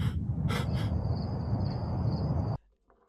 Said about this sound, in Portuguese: A sua própria respiração. Ofegante. Cada vez mais forte.